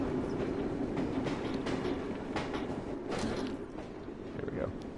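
A moving train in Assassin's Creed: Syndicate, set in Victorian London, rumbles steadily and continuously with a dense, close mechanical roar and clatter, while someone talks over it.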